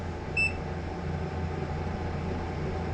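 A single short electronic beep rings out over a steady low mechanical hum from a running EcoFlow Wave 2 portable air conditioner.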